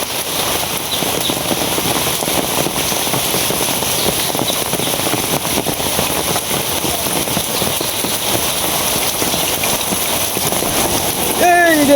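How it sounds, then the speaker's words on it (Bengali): Heavy rain pours down steadily, a dense, loud hiss that fills the whole stretch, with a brief voice rising near the end. "বৃষ্টি পড়তেছে"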